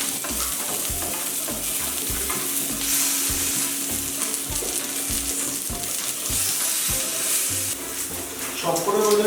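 Vegetables for a paneer shashlik sizzler shallow-fry in a pan, crackling and sizzling loudly while being stirred, with rhythmic scraping knocks of the spatula running through the steady hiss.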